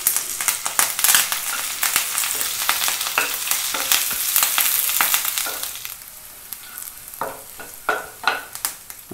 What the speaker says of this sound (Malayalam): ഇനി അതിലേക്ക് ഇഞ്ചി, വറ്റൽമുളക്, നമ്മുടെ കൊച്ചുള്ളി ചെറുതായിട്ട് അരിഞ്ഞത്, ഇതെല്ലാം വിട്ടൊന്ന് മൂപ്പിച്ചെടുക്കാം.